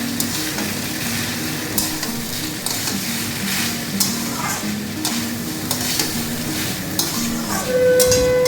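Sliced banana stem sizzles steadily in a hot pan with salt and turmeric while being turned by hand, a continuous frying hiss broken by soft scraping stir strokes, close and fairly loud.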